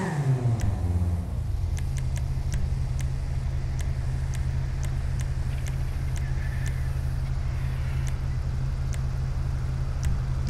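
A car engine hums steadily in Grand Theft Auto V, a low constant drone with faint regular ticking clicks over it, smooth and unbroken.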